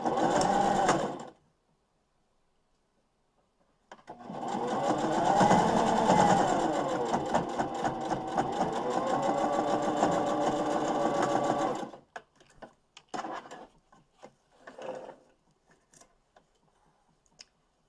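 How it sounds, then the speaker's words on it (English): Sewing machine back stitching a fabric face mask, running in two bursts: a short one, then a long steady whir of several seconds, followed by a few faint clicks and handling sounds, close and loud, with no talking. "I am back stitching at the top and the bottom, or the start and the beginning of my stitch to make sure that everything stays secure."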